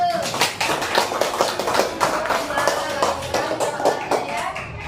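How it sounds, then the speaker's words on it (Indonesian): Classroom clapping for the first student group after a presentation, a steady run of sharp claps from a small crowd of students, with voices mixed in. "Tepuk tangan untuk kelompok 1."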